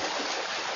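Steady broadband splashing and churning water from many swimmers thrashing at a triathlon swim, loud and continuous without a break for under a second.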